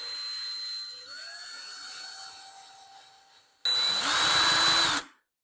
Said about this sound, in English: So right now it's drilling.